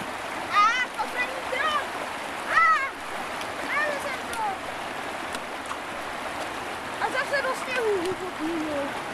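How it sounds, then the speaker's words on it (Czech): A mountain stream rushes steadily in a constant broadband wash during a stream crossing, with voices calling out intermittently over the flowing water. "Klapka překonávání vodního toku."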